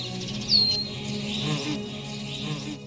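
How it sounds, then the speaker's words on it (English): Birdsong sound effect on an AI-generated video soundtrack, with a bright chirp early on over a steady insect-like buzz and soft musical tones, moderately loud and without any speech. "So I added the bird song, the bees, the page turning effects"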